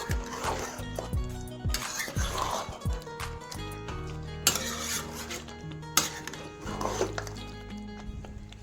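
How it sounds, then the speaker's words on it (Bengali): Spoon scraping and clinking against a pan while chicken curry with ginger and garlic is mixed, a series of irregular metallic scrapes and taps, fairly close and moderately quiet, with no talking. "এবার ভালো করে মিক্স করে নেব"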